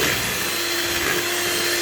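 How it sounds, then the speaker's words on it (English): Cake batter being whisked in a bowl, a steady continuous whirring with no pauses, loud and close, with no talking. "keep whisking for a minute"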